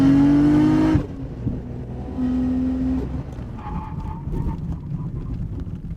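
A Nissan R32 GT-R runs hard back-to-back brake test stops, its engine loud and droning before cutting off abruptly, then quieter engine noise and lower rumble as the car slows.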